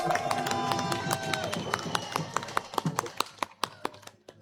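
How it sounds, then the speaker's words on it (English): An audience at a Shilpgram stage program applauds, the clapping starting dense alongside some tonal sound and then thinning into scattered individual claps that fade away. "can we have a big round of applause?"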